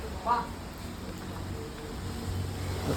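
Light rain falls steadily outside a house during a car driving lesson, a soft continuous patter under a faint brief voice near the start.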